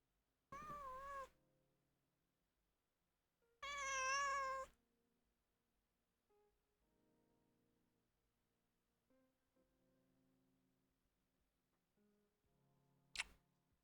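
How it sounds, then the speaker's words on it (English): A pet cat meows close to the microphone: two loud, drawn-out tonal meows a few seconds apart, then quiet rustling and soft ticks with a sharp click near the end. "bring the cat near the microphone"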